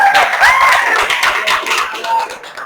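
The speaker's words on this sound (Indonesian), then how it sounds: "tepuk tangan buat kita semua" A classroom of children clapping together in quick bursts, loud and close, with a teacher's voice heard briefly near the start.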